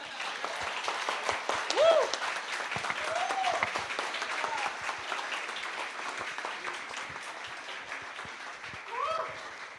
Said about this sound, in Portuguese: Então, palmas para a Tainá.